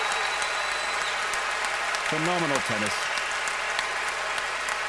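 Sustained, dense applause from a standing indoor tennis crowd after the 1992 Brussels final fills the whole stretch at an even level, with a commentator's short remark over the top.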